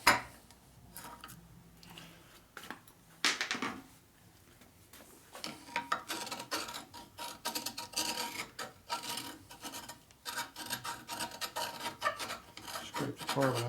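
Rough rasping and scraping as carbon is scraped off the exhaust port surface of a Harley FXR cylinder head, repeated strokes with a few pauses, close and fairly loud, no talk.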